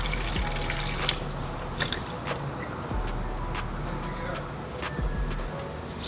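Coolant water pours and splashes steadily into a Subaru WRX STI's cooling system, a continuous gurgling stream with occasional clinks and knocks, no talking.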